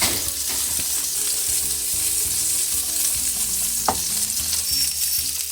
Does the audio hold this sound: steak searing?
yes